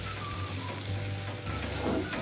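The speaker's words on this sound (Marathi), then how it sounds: "हे पण तेलात छान भाजून घ्यायचं." Ground masala paste frying in hot oil for ridge gourd bhaji, a loud, steady, dense sizzle close by with faint stirring, continuous throughout and no voices.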